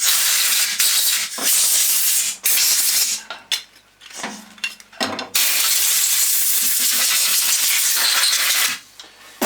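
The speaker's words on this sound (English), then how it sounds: "It's always a good idea to give the parts a good blow off after you've washed them" Compressed air blowing washed Lucas DR3a wiper motor parts dry, a loud hissing blast in long bursts with brief pauses and small clinks between them.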